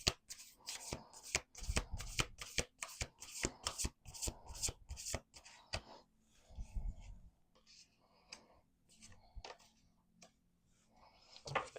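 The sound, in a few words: shuffling a deck of oracle cards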